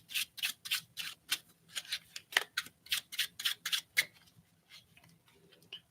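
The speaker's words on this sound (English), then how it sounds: "that's pretty much along the lines of my favorite false shuffle" A brand-new deck of playing cards is shuffled in a false shuffle, giving a quick series of crisp riffling and snapping bursts in an irregular rhythm, close and clear, then tapering off near the end with no talking.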